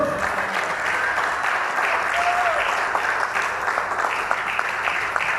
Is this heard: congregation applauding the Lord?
yes